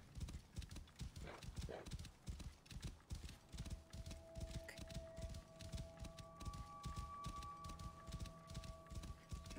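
Horse hooves clop steadily and rapidly throughout in Assassin's Creed Origins, a dense galloping rhythm with game tones and ambience layered above, fairly loud and continuous.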